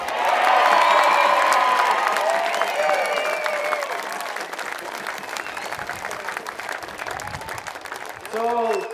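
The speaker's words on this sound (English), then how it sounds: "can we just get a cheer for Mickey Hogarth?" A crowd at the SFNL 2024 grand final between Imperials and Wentworth cheers for Mickey Hogarth, loud applause and whoops that peak early then taper, with a voice cutting in briefly near the end.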